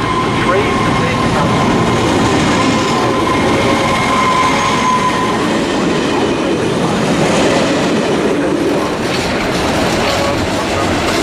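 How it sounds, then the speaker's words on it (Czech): A train rolls out of Brno main station with a loud, steady rumble of wheels and cars on rails and faint squealing tones, while a station announcement plays over it. "Attention please, the train is taking off."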